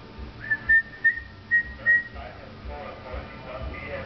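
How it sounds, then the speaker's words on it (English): A few short, thin whistled notes from an 11-month-old baby, breathy and uneven, with an adult speaking softly around them. "11 months old and whistling"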